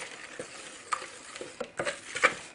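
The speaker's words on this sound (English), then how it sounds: "just give that a little stir" A spoon stirs peanut butter fudge mixture with vanilla in a pot, making quiet, irregular scrapes and soft taps against a faint background hiss.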